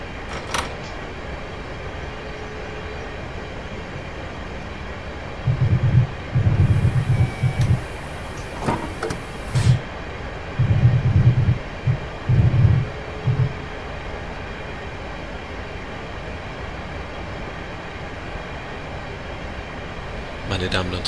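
Railjet train rolling over the Semmering pass in Train Simulator, a steady low rumble with bursts of rhythmic clatter from wheels over rail joints in the middle, a voice talking over it.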